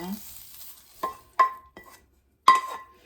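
Sautéed onion and carrot are tipped into a pot of dumpling and garlic soup and stirred, a few distinct spoon scrapes and clinks against the pot over a faint sizzle, close and otherwise quiet.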